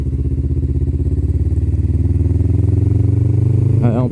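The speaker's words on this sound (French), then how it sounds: "c'est une moto quand même qui marche quand même pas mal" A motorcycle engine with a modified exhaust, a light bike of about 180 kg, runs at a steady, loud, throbbing idle that rises slightly toward the end, with a brief clatter near the finish.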